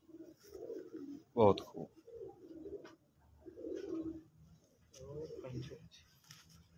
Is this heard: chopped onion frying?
no